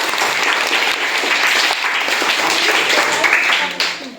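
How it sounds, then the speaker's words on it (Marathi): Several seconds of steady, enthusiastic clapping from a group of children and adults at a primary school quiz, loud and close, fading slightly at the end. "सगळ्यांनी टाळ्या"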